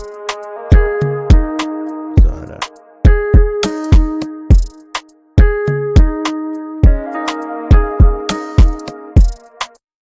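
A punchy afro swing beat with deep kicks and bright hits repeats under a sustained melodic ambient layer, loud and steady throughout.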